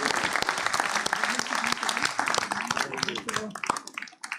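Audience applause at a local conference on sand and glass. Dense clapping from a crowd fills the room and thins toward the end, with voices mixed underneath.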